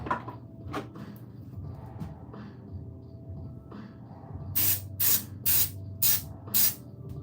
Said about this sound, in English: So as you start spraying more red around this